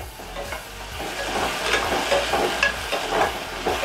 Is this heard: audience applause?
no